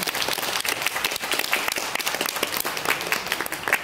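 An audience applauds at an HTC U Ultra smartphone launch event in Taiwan, a dense, steady wash of many hands clapping together for several seconds without a break, with no voices over it.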